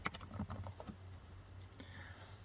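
Quick, light keystrokes on a computer keyboard, several close clicks in a short burst at the start and then a few scattered taps, soft and near, with no talking.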